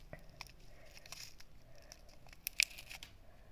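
A small packet of popping candy is opened quietly and close by, with faint crinkling rustles and a brief sharp snip-like tear near the end.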